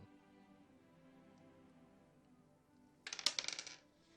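A d20 die tossed during a tabletop game rattles and clatters briefly near the end after a quiet stretch, a short burst of hard clicking bounces close by.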